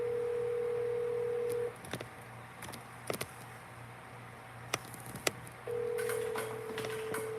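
An outgoing phone call ringing back: a steady electronic ring tone sounds for about 1.5 seconds, cuts out for a quiet gap with a few faint clicks, then resumes near the end.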